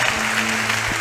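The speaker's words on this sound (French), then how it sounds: "Applaudis pour Jésus." Congregation clapping at a church healing service, a brief dense patter of many hands with a low steady hum beneath.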